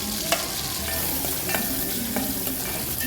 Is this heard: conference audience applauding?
no